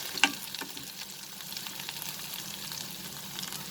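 Chopped ginger and garlic roast in a hot pan with a steady, soft sizzle, a sharp clink of a utensil near the start, then continuous frying at moderate level with no voices.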